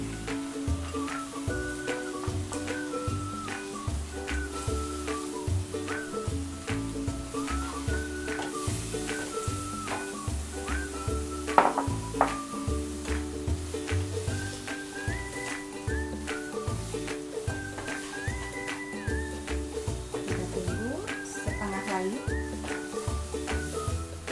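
Vegetables, starting with carrots, sizzle and crackle steadily in a hot pan during stir-frying, a continuous frying hiss with musical tones playing underneath.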